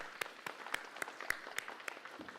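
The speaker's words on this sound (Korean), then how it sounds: "우리가 예수 그리스도의 탄생을 축하하는 하나님께 박수로 영광 돌리겠습니다." Church congregation at a Christmas worship service claps in unison, a faint, distant series of evenly spaced rhythmic claps over about two seconds with no talking.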